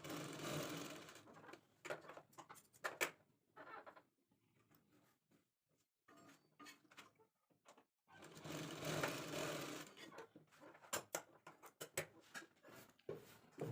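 Sewing machine stitching a blouse lining, two close bursts of rapid running stitches separated by a quiet pause with softer handling noises, no voices.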